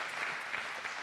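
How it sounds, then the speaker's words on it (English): Brief, dense clapping from an audience at a fall sports parent meeting, greeting a coach with an even, moderately loud patter. "let's give Coach BT a nice round of applause"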